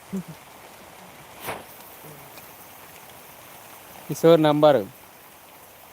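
Rain falls steadily in a village, a soft, even hiss that runs throughout, with a few brief voices breaking in near the end.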